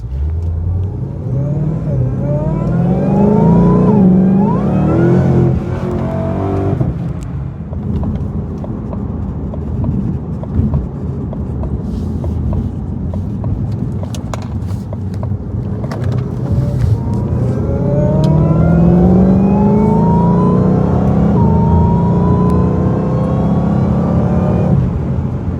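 A Shelby GT500 with 770 horsepower, in quiet mode, pulling hard: the engine climbs through rising revs, drops at a gear change, then winds up again, loud and close from inside the car over a long stretch.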